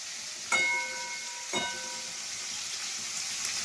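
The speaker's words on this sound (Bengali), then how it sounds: "এখানে দেখুন কড়াই ক্যাকড়াটা হচ্ছে, এটা ভেজে নিই ভালো করে।" Crab frying in a wok: a steady hiss of hot oil sizzling at moderate volume, with two sharp clattering knocks of a utensil against the pan near the start.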